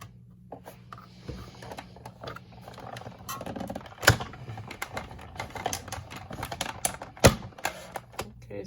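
A die-cutting machine runs paper through foliage and snowflake dies on a magnetic platform, giving a steady mechanical whir broken by sharp clicks and clacks at uneven intervals, close and fairly loud.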